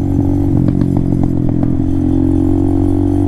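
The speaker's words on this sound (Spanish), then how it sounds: "Lo único que sí es molesto es el sonido del escape y el sonido y el sonajeo del porta celular" A steady exhaust drone from a Vento Screamer Sportivo 300 motorcycle with a rapid metallic rattling of a loose phone holder clattering over it, close and loud.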